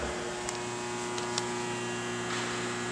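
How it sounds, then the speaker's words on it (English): A steady electrical hum from overhead lights in a car dealership, loud and constant, with a few faint ticks over the drone and no talking. "Apologize for the volume of the overhead lighting."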